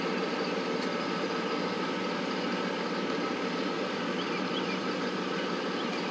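A 2002 Dodge Ram 2500 pickup engine runs steadily on a test drive after a brake job, a faint, even low rumble with road noise and no voices.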